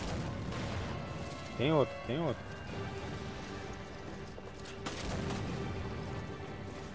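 Gunfire in a Resident Evil 5 co-op session: two sharp shots around the middle of the clip, sounding in-game over steady background game noise while players talk throughout.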